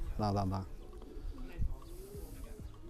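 Racing pigeons coo softly in their loft, with low, murmuring calls repeating through the short stretch. A voice is heard briefly at the start.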